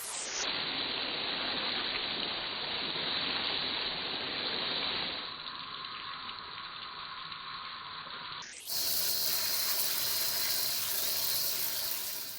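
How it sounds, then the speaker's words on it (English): Tap water runs steadily while things are rinsed off in a kitchen sink. The stream is a continuous close hiss whose tone shifts twice as the flow hits different surfaces. No one speaks. "I'm going to just rinse everything off"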